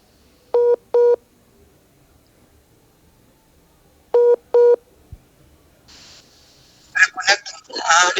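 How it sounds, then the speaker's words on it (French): Two pairs of telephone dialing tones, each a pair of clear beeps, sounding alone with silence between; later a brief rustle and louder voices talking near the end. "Le téléphone."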